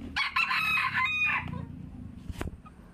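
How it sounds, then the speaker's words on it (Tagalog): Chickens being fed crow and cluck nearby, with a loud crow at the start followed by softer clucking and scattered farmyard noise. "Pinakakain ko lang itong mga manok."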